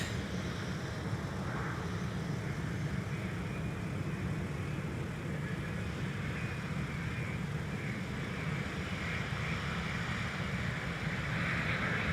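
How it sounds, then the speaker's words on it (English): Delta Airbus A330-900 airliner arriving at Minneapolis–Saint Paul airport, heard as a steady, moderately distant broadband engine roar with no clear peaks, continuous throughout. "And I also spy Delta 9 coming in from London Heathrow."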